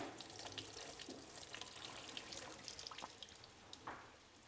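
Water poured off pea protein chunks in a kitchen while cooking pad thai, a faint steady running trickle with a few small splashes.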